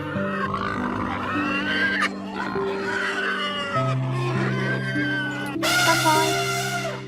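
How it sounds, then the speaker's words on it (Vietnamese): A pig grunts and oinks, then breaks into louder squealing near the end, all over a continuous music bed in a children's animal-sounds lesson. "Pig."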